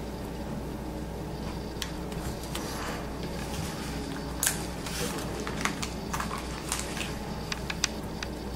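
Fingers tap on a keyboard in a quiet room, a light scatter of soft, uneven keystrokes with a few sharper clicks over a low hum, no one speaking.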